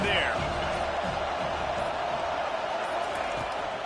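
A stadium crowd at a football game roars in a steady, dense wash of noise that never lets up, while a commentator talks over it.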